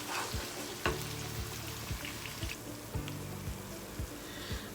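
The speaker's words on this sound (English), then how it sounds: "I'm going to let all that fry together for about 5 minutes, and try to fry it on a low heat" Onions and garlic frying gently in a pan on low heat, a soft continuous sizzle with regular light knocks of a utensil stirring, quiet and close, nobody speaking.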